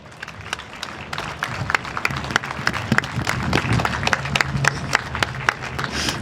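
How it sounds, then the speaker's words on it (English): A sparse audience applauds at a gathering about Hardel Sherrell, with scattered, uneven claps building slightly over several seconds amid low crowd murmur. "Yes, you can applaud."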